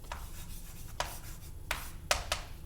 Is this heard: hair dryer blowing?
no